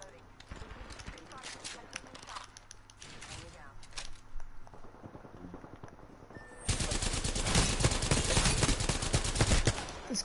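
Automatic gunfire in Apex Legends during a duos match, starting as scattered bursts under a voice, then swelling into a loud, continuous stream of rapid shots for the final few seconds.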